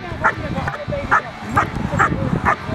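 A German Shepherd barks five times at a steady pace, close and fairly loud, while a person talks over it.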